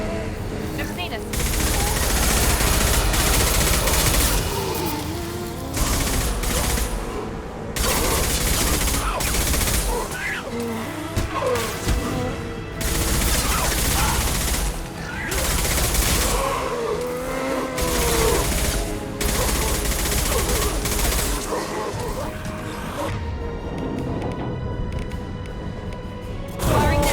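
Video-game firefight in Mass Effect 2 with dense, sustained bursts of gunfire and rapid shots, loud and close, with shouted voices in the mix and brief lulls between volleys.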